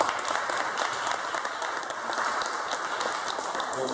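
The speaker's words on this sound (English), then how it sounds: "Give yourselves a round of applause." Audience members at a panel event clap for themselves in a sustained, even round of applause, fairly distant and unbroken by talk.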